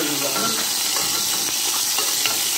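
Gizzards drop into a hot pot being readied for rice-stuffed pigeons, giving a steady close sizzle and frying hiss with light stirring scrapes throughout.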